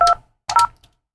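A touch-tone telephone keypad dialing a number: two short, clear beeps about half a second apart, close and loud, with no talk.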